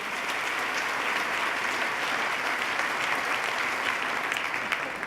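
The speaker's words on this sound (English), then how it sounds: "let's start by giving Pat a big round of applause for coming up and sharing his story" Sustained audience applause fills the chamber during the 2014 New York State of the State address, a steady, even roar of many hands that holds at a moderate level throughout.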